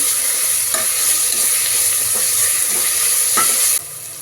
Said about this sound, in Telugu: ఫ్రెష్గా నూరుకున్న అల్లం వెల్లిగడ్డ పేస్ట్ 1 స్పూన్, పచ్చి వాసన పోయడానికి వేసుకుందాం.